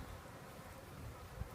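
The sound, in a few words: honey bee swarm buzzing during removal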